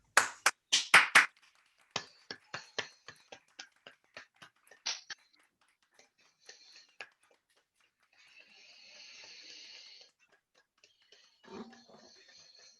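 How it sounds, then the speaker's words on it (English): Rally audience claps for carers in a brisk, close burst of applause that thins into scattered individual claps, followed by quieter rustling and a faint murmur near the end. "let's give our carers a very big clap."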